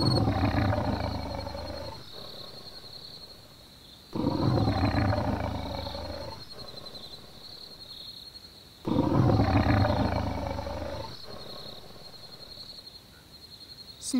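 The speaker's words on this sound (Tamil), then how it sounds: "அதோ பாரு புலி" A cartoon tiger in a Tamil moral story for kids lets out three long, loud roars, each starting abruptly and fading over a couple of seconds, separated by quieter gaps with a faint steady high whine.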